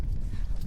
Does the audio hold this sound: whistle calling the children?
no